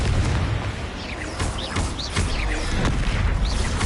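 Confringo spell blasts in Hogwarts Legacy boom and crackle over continuous loud rumbling battle noise, several explosive hits and whooshing spell effects piling up across the span.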